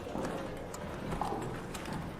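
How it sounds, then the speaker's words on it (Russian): Enemy footsteps in the video game Arc Raiders, a steady run of soft thudding steps heard through dense in-game ambience, close and continuous. "Я слышу шаги."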